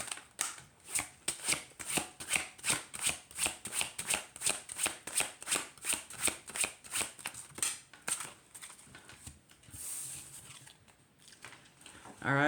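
Cards of an oracle deck are shuffled by hand in rapid, even riffling bursts, about twenty close soft slaps in a steady rhythm that then slows and trails off, recorded near and quietly.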